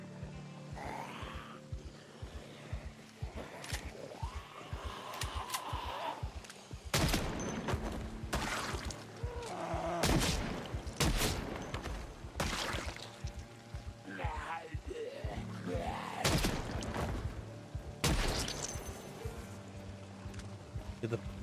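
Video game gunfire cracks out in bursts and single shots over a choppy background rumble, loud blasts repeating every few seconds while a person talks through much of it.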